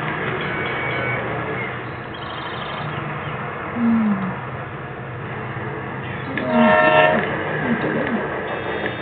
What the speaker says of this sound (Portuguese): Olha, agora vou enviar um trem.